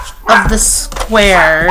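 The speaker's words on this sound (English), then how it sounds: "Excuse my dog barking." A dog barks a couple of times close by, loud and sharp, mixed in with a person talking.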